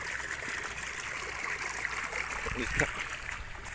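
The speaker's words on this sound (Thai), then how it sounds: "น้ำไหล" Water flows and trickles at a fishing spot, a faint steady burble with a brief splash near the end.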